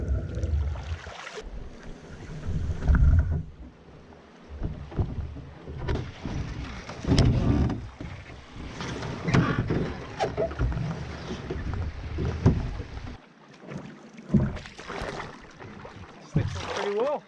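A canoe is paddled across a northern boreal lake, with splashing paddle strokes and water sloshing under steady wind noise and intermittent talk.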